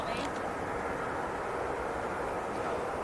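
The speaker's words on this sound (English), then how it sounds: "this beautiful beast of a machine that is an easyJet A380" An easyJet A380 airliner passes at Manchester Airport, its engines producing a loud, steady broadband roar that holds evenly from start to finish.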